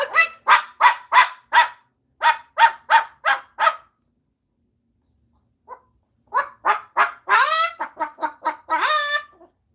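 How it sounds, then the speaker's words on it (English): A dog barks outside in a quick series of sharp, fairly loud yaps. After a short pause, a second burst of barking follows, and it turns more strained and squealing near the end. "There's a dog outside."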